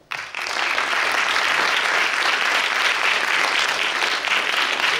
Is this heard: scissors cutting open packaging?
no